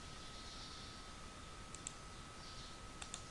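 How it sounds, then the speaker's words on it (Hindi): A computer mouse is right-clicked while working in Microsoft Word, giving a few faint, sharp clicks spaced apart over a quiet background hiss. "राइट क्लिक करता हूँ, जैसे मैंने राइट क्लिक किया"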